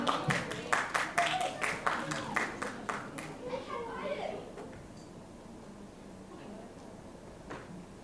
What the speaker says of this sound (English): Please give her a round of applause to welcome her to the stage